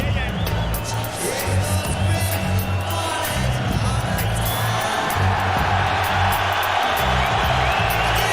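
A boxing arena crowd roars and cheers continuously for heavyweight Lennox Lewis, a dense, loud wash of voices with whoops and scattered clapping that holds steady throughout.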